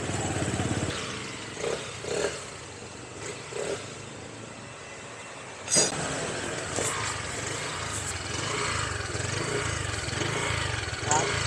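Motorcycle engine running with a rattling, clanking noise from below, a steady close idle with intermittent metallic clatters and a couple of louder knocks, people talking over it.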